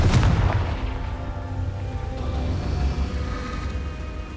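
A Confringo spell in the video game Hogwarts Legacy goes off with a sharp explosive boom at the start, then a rumbling, fading tail under a steady background hum.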